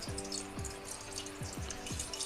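Water poured from a tap over a fresh bone-in, skin-on chicken thigh in a pot, a soft running trickle with several gurgling splashes and drips, faint and close, with no talking.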